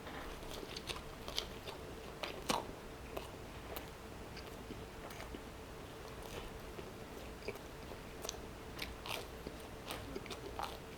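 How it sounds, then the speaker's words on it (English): Someone bites and chews crunchy Domino's or Pizza Hut pizza crust in a quiet room, giving a string of sharp close crunches and crackles at an irregular pace with no talking. "the crust wins over here. It is super crunchy."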